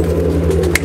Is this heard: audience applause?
no